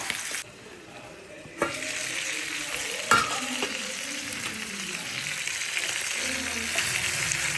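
Three chicken pieces frying in a pan, a soft continuous sizzle with a few sharp clicks of a utensil against the pan, fairly quiet and steady throughout.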